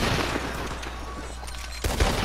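Gunshots ring out in Red Dead Redemption 2, a few sharp reports over a quiet ambient bed, with the clearest shot landing near the end.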